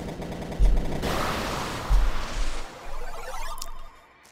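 Gunfire from a gun in the video game ITTA comes in loud, rapid bursts with heavy thumps, a brief pause, then another volley that fades out.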